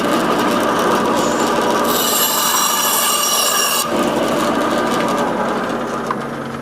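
A piece of scrap timber is sawn in a workshop during dining chair reupholstery: a loud, close, continuous rasping cut that runs steadily through the whole stretch and briefly turns harsher and brighter near the middle.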